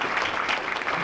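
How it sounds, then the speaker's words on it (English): Audience clapping at a township council officer swearing-in ceremony in Woodbridge, a brief, steady burst of many hands without pause. "That's an applause line, folks."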